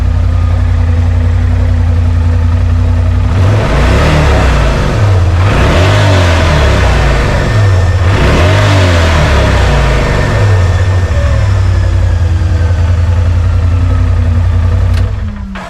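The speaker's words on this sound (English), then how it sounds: "Rev it up a few times for you." A RZR Pro XP side-by-side fitted with an aftermarket blow-off valve and charge tube idles loudly up close, then revs hard several times in quick bursts before settling back to a steady idle.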